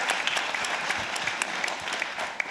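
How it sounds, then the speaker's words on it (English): An audience at a panel conversation on climate change with former prime ministers gives steady, fairly soft applause, with crisp individual claps over a continuous wash of many hands. "Well, I would say applause to that."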